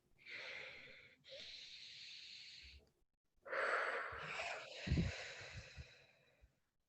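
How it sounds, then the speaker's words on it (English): Slow, deep breath drawn in and released during an EFT tapping session for stress relief, close and airy with a pause between two long breaths and a soft thump near the end. "Close your eyes. Take a deep breath in."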